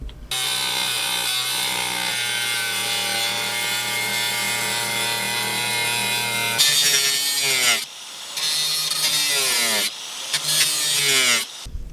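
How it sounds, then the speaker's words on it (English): A hole saw cutting a hole in the corner of the bay of an MCI E4500 bus conversion, loud sustained grinding rasp close up, pausing briefly and restarting in shorter bursts. "I have a hole to make here in the corner of the bay, and I'm going to use my favorite hole saw."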